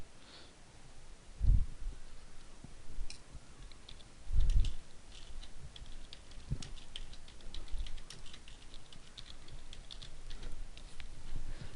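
Typing on a computer keyboard: quiet, irregular clicks and taps of keys, close but faint, with a couple of soft thumps.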